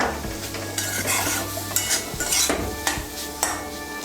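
An egg and poppy seed mixture with green chilli fries in a pan, giving a steady sizzle broken by several sharp scrapes and clinks of a spatula stirring against the metal.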